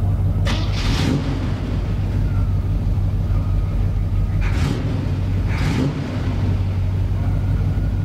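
A 1985 Mazda RX-7 rotary engine idles steadily at a car show, a low continuous rumble with a few brief hissy bursts over it.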